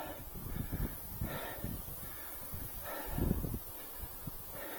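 Wind buffeting the microphone of an ORDRO video camera worn while riding a bicycle with the wind at the rider's back, a steady low rumble swelling in gusts for the whole stretch with no speech.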